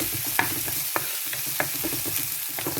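Ivy gourd sautéing in a pan with dried red chilli and curry leaves, a steady sizzle broken by scraping stir strokes at irregular intervals, close and fairly loud, no voices.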